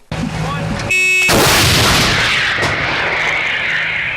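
A 2S7 Pion 203 mm self-propelled howitzer fires in a Ukrainian field: one sudden, loud, close blast that booms and then rumbles away over several seconds.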